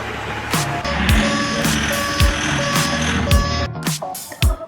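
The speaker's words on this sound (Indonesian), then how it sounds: "Underground mining truck." An underground mining truck reversing, with repeated evenly spaced beeps over a loud, steady engine rumble, plus descending whooshing tones and clanks recurring through the stretch.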